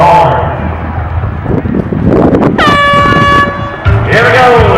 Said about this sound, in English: Listen for the horn.